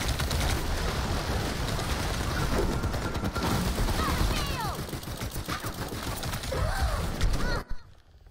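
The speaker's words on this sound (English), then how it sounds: "Stop shooting." Rapid bursts of gunfire from a first-person shooter video game crackle continuously and loudly, with frequent sharp shots layered over dense game noise and a few chirping effects, cutting off abruptly near the end.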